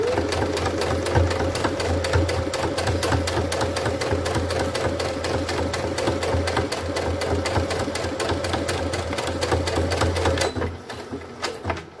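A sewing machine stitches cotton fabric and sponge together along a 1 cm seam, its steady rapid needle clatter running close and continuous for about ten seconds before stopping abruptly near the end.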